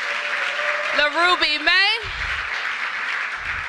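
Steady audience applause at an Emancipation Day breakfast, a continuous clapping texture filling the room while an announcer reads out a name over it.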